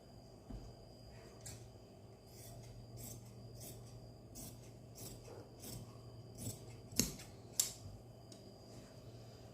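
Scissors cut through velvet cloth for a suit in a quiet room, with a series of crisp snips and soft rubbing of fabric, a few sharper cuts near the end, faint and close with no talk.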